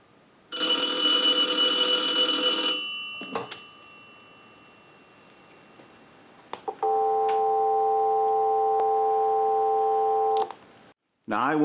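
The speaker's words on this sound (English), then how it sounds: "we'll give you some dial tone" A final ring burst from an Automatic Electric three-slot payphone gives way to a few clicks, then a steady, continuous dial tone hums for several seconds before cutting off with a click.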